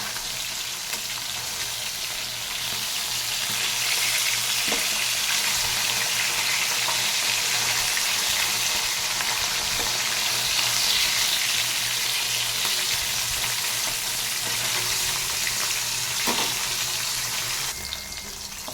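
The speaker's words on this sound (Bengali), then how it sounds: "মাছ কটা আমি ভাজা বসিয়ে দিয়েছি।" Khaira fish, rubbed with salt and turmeric, frying in a pan: a steady, loud, close sizzle of hot oil that holds evenly throughout, with a couple of faint clicks and no speech.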